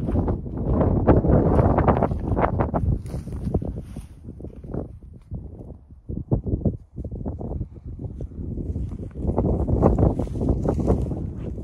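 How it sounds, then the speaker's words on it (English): Gusty wind roars across the microphone outdoors at a rural driveway work site, a loud, uneven buffeting that surges, dips briefly near the middle, then builds again. "Windy again today"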